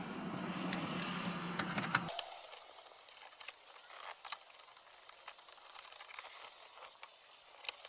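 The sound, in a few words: driving screws in while reinstalling Lincoln MKZ dash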